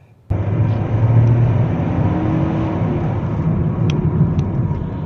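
A Geely Okavango mild hybrid SUV engine pulls hard under acceleration, a loud close steady drone and whir that starts abruptly and holds for several seconds with no talk.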